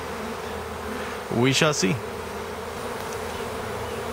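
A swarm of honey bees caught from a house hums in a steady, close, dense drone throughout, with someone briefly speaking over it.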